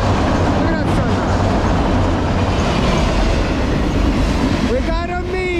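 A Norfolk Southern freight train rolls past at sunrise in 28-degree cold, its loud steady rumble and rail noise filling the scene, with a brief wheel squeal near the end and voices talking over it.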